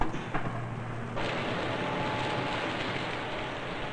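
Simulated downpour spraying a new 1969 Ford car on the factory test line, a dense steady hiss of water drumming on metal that surges louder after a second and continues evenly.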